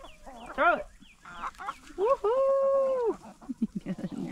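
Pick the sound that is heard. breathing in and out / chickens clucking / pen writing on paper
chickens clucking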